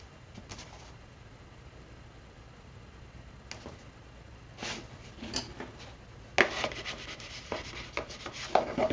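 Paper is burnished down inside a handmade craft box, giving soft rubbing strokes that start faint and grow into sharper, closer scrapes and rubs, with no talking.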